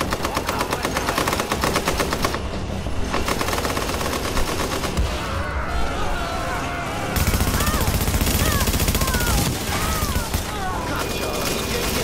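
Sustained rapid automatic gunfire from the third-person shooter Tom Clancy's The Division, a dense continuous rattle of shots with mechanical clatter, loud and steady throughout the clip with a brief burst of louder fire midway.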